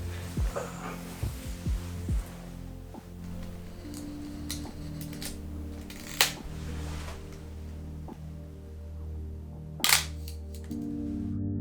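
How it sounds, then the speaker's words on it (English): A few sharp mechanical clicks of a film camera shutter at 1/30th second ring out among quieter handling taps and a low steady hum. "All that is left to do is to press the shutter."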